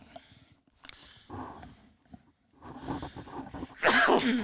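A single sneeze bursts out near the end, preceded by a few quiet breaths and throat sounds.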